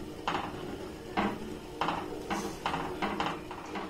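A spoon scrapes and knocks around a cooking pot as a blended paste of Gobindobhog rice and cashew nuts is stirred in, giving about seven clattering strokes at a steady, unhurried pace, close and fairly quiet.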